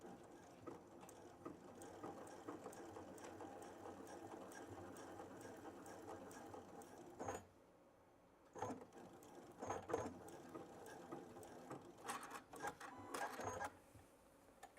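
A Baby Lock sashiko quilting machine stitches a tote bag seam with lock stitch, a faint, rapid mechanical clatter that stops for a moment midway and then resumes in short bursts.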